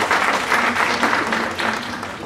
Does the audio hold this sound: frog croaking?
no